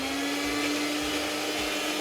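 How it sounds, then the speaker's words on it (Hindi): A mixer grinder blends a dip in a home kitchen, giving a loud, steady motor whine with a constant pitch that runs without a break, with no talking. "अब जाके कहीं थोड़ा सा ब्लेंड होना स्टार्ट हुआ है"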